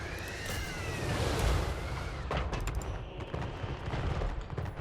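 Battle gunfire in a strategy video game, with soldiers firing from castle walls and artillery in play: a dense, steady barrage of rolling shots and distant booms, with sharper cracks near the end.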